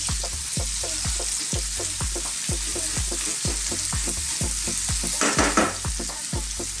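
Red onion strips and thyme fry in a pan, a continuous bright sizzle broken by a steady run of rhythmic stirring thumps about twice a second, with a brief louder scrape near the end, no talking.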